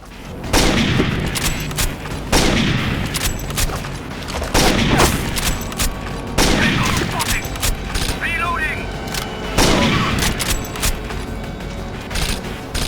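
Gunfire and shotgun blasts from the video game Rainbow Six Vegas 2 come as loud, sharp bursts at regular intervals, with a voice talking between and over the shots.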